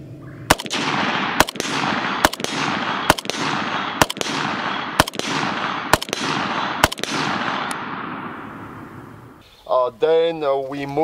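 A Zastava AK NPAP rifle firing eight evenly spaced, loud, sharp shots with ringing decay between them, followed by a brief voice at the end.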